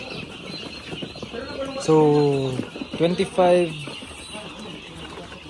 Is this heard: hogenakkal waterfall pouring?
no